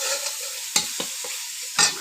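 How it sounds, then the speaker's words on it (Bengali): Ginger, garlic and cumin paste frying in a pan while being stirred, a steady close sizzle broken by several sharp scraping strokes of the spoon, with no voices. "এখন আমি একটু নেড়ে নেবো।"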